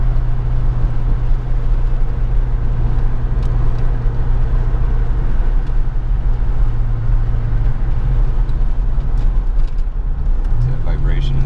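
A 1993 Mustang Cobra fitted with a TKO600 manual transmission cruises on its first drive, its engine a steady, loud low drone inside the cabin, with a voice present at times.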